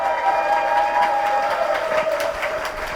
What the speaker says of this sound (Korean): 양경규 후보에게도 격려의 박수 다시 한번 부탁드리겠습니다